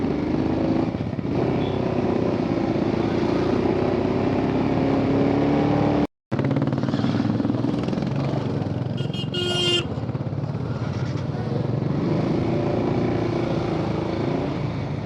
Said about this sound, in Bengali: আমারটা অ্যাডভেঞ্চার বাইক।